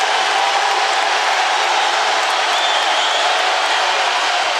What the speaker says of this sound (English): Rupp got awfully loud on that one.